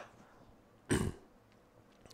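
A single short, muffled cough bursts out in an otherwise quiet room, fairly close.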